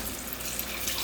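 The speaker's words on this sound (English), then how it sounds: "Add that water." Water pouring into a pot for shrimp stock, a continuous soft splashing rush at low level with no talking.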